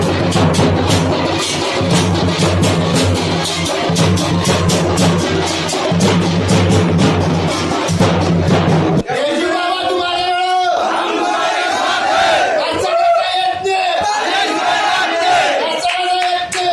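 Loud, dense crowd cheering and shouting at an election victory celebration, sustained for about nine seconds before shifting into chanting voices and music-like tones.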